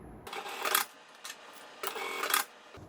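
A sewing machine stitches a fabric bag handle with wide stitches in two quick bursts of rapid whirring clatter, separated by a short pause and a brief mechanical blip, close and fairly clear with no talk.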